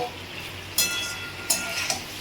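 Kudri (ivy gourd) frying in a pan, a steady sizzle with three distinct scraping stirs of the spatula spaced evenly apart.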